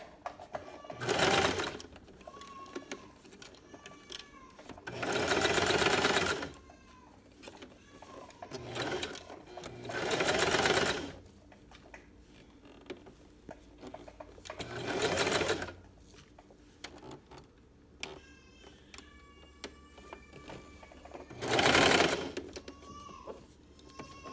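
A sewing machine running a straight stitch through two pinned layers of fabric for a baby sleeper, in about five bursts of steady whirring separated by short pauses with faint background sounds, heard up close.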